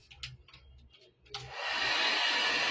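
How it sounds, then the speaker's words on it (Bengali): A hair dryer blows on a little girl's wet hair during a home haircut, switching on after a moment of soft clatter and then roaring loud and steady close by. "চুলটা ভিজিয়েছি না, তো ড্রায়ার করে দিচ্ছি"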